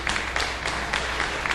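Rhythmic clapping from a church audience, steady claps landing about every quarter second, moderately loud over a dense background hum.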